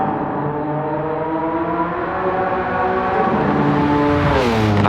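A 700-horsepower RUF CTR Yellowbird engine drones steadily and loud as the car drives the Nürburgring, its pitch rising gradually as it accelerates, with a sharper surge near the end; no one speaks.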